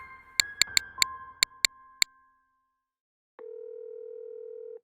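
A landline telephone sounds a row of seven sharp clicking dial pulses, then after a brief silence a steady, loud continuous dial tone hums up close.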